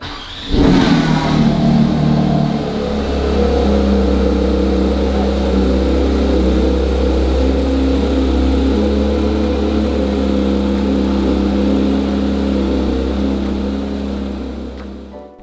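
A Porsche 911 GT3 (992) engine cranks and fires up with a sharp rev, then settles into a loud, steady rumbling idle up close.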